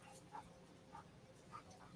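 A dog whimpering in three short, high, evenly spaced whines, quiet and close over a low background hum.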